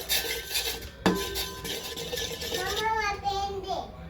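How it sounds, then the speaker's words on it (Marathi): Tomato ketchup being stirred into water for kurdai Maggi, a spoon scraping and clinking against a pot in steady strokes, one sharper knock near the start, close and moderately loud. "हे छान मिक्स करून घ्या."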